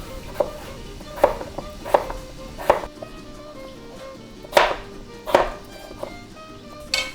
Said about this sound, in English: we're going to cut them in half and then we're going to cut them in small little pieces